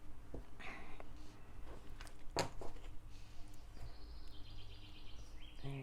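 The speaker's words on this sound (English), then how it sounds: "Listen to those birds." Birds sing outdoors, with faint, intermittent high chirps and whistles in the background alongside a soft voice.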